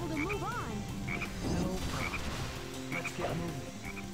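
Repeated croaking frog calls in the video game Sonic Heroes, short bursts recurring roughly every second over a busy background with faint voices.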